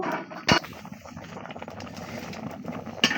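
Roselle jelly syrup boiling in a covered pot, a close, low bubbling simmer with two brief louder knocks, like a lid or utensil.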